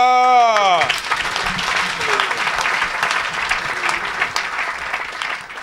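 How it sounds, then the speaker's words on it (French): An audience at an evangelist's church service breaks into sustained, loud applause that follows a short voice at the start and then continues on its own with some cheering. "Acclame."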